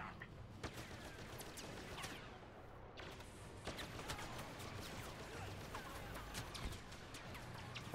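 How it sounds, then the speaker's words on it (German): Star Wars Battlefront blaster fire from enemies, heard as scattered sharp zaps and pops at varying distances, mostly faint, over a low battlefield rumble, with no talk. "Ja, die schießen auch richtig rauf."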